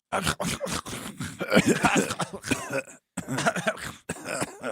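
A few sharp, harsh coughs and throat-clearing bursts close up, broken by brief pauses, with scraping rustle between them.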